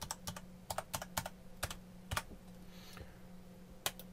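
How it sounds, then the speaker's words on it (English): Password typed on a computer keyboard at a Gmail sign-in, a quick uneven cluster of crisp key clicks, close but quiet, ending with a single final keystroke and no talking. "type in the password"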